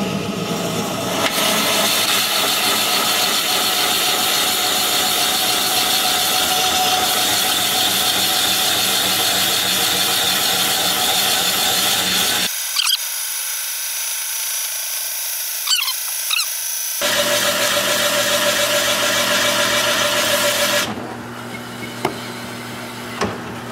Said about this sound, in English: I'll drill all the way through with a 2-inch and then switch back to the 2 3/4